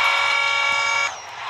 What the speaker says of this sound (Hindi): देख सकते हो हॉर्न भी है, हॉर्न देते हैं हम